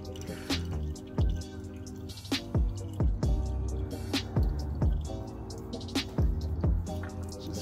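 Old engine oil drains from the removed oil filter of a 2010 Infiniti G37 into a catch pan, a close run of distinct drips and gurgling plops at an irregular pace.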